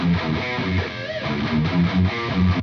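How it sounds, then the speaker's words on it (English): Heavily distorted electric guitar through a Mesa amp simulation, chugging in tight, palm-muted rhythmic bursts, thick and saturated, played loud and close. "So it's very juicy, very saturated, has that chug sound"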